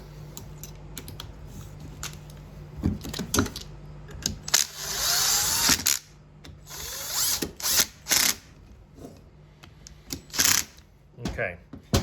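Bolts being tightened on an RV leveling pump motor, with scattered ratcheting clicks and mechanical taps, a short whirring burst, and intermittent clanks close by against a faint steady hum.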